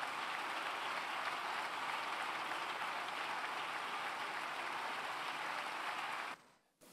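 Members of Spain's Congress of Deputies applaud in the chamber, a steady, dense roll of many hands clapping for about six seconds before cutting off abruptly.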